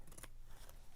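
Scissors snip through fabric while trimming a quilted pocket piece, a couple of quick crisp cuts close by against a steady low background hum.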